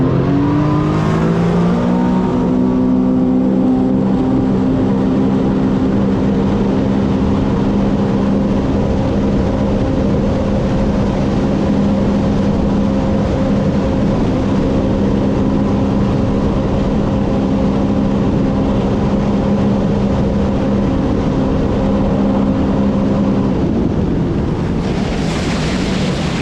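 Two Sea-Doo jet skis, an RXP 300 with a Stage 1 tune and a GTX 230 Limited, race on open water, their engines revving up hard from the start and holding a loud, steady roar with wind and spray before easing off near the end.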